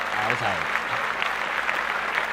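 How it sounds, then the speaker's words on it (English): Steady applause from a crowd of hands clapping continuously, with a brief voice heard faintly at the start beneath it. "Clap that up, man."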